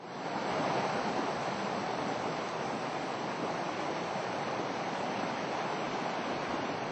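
Stream water rushing down the Ocheoncheon valley, a dense, steady broadband roar that holds constant and close with no voices.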